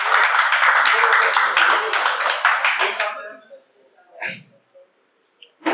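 Brisk clapping from an audience at a Hindi poetry recital, dense at first and then thinning out after three seconds, leaving a few scattered claps and quiet gaps.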